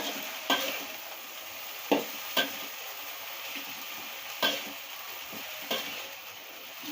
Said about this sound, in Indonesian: Kita aduk sampai agak layu.